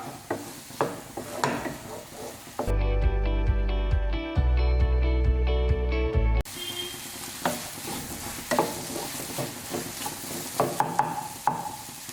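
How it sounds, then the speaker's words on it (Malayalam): Egg bhurji fries in a pan on a medium-high flame, a steady close sizzle with stirring scrapes and taps, interrupted midway by several seconds of music before the sizzling and stirring resume. "മീഡിയം ടു ഹൈ ഫ്ലെയിമിൽ വെച്ചിട്ട് നമുക്കിത് കുക്ക് ചെയ്തെടുക്കാം"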